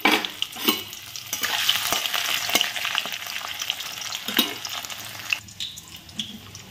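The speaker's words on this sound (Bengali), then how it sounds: "আলুটা ফোড়নে দিয়ে দিই।" Potatoes fry in very hot oil with whole tempering spices, a loud, close crackling sizzle with scraping stirs throughout and no one talking.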